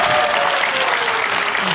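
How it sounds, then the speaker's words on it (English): A theatre audience at the Stratford Roundhouse gives a round of applause: dense, steady clapping from a crowd, loud and sustained, with no voices over it. "an enormous round of applause, please"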